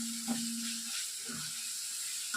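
Ginger garlic paste frying with golden onions in a pan gives a soft, steady sizzle and hiss, faint and close, with a few light stirring clinks.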